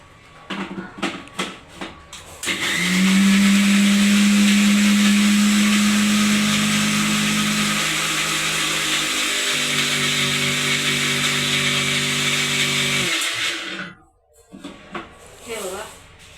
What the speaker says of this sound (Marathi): कडुलिंबाचा पाला आणि बीट अर्धं बीट घेतलेलं आहे हे मी मिक्सरमधून काढते आता